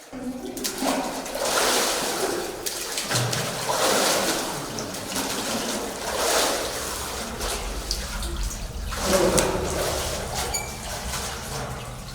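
Water splashes and sloshes as worshippers plunge into cold water inside a church in Odesa, a steady wet wash with surges around the fourth and ninth seconds, with voices murmuring faintly underneath.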